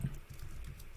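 Quiet, rapid keystrokes on a computer keyboard while entering a value into a spreadsheet cell, a soft pattering run of clicks with no talk.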